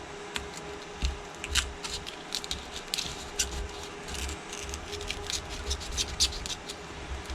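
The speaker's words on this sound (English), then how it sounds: "get a thin plastic card and go right underneath" A thin plastic card pries and slides beneath the glass of an iPhone XS Max during repair, giving faint, irregular scratchy clicks and scrapes over a low steady hum, close and quiet.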